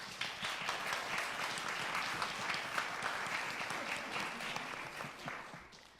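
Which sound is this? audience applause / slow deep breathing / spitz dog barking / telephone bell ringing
audience applause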